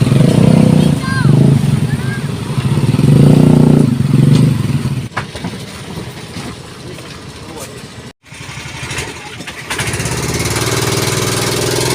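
Motorcycle engines revving and idling as bikes are ridden onto a small crossing ferry boat, loud and close at first and then fading into a lower rumble with clattering, while people talk nearby.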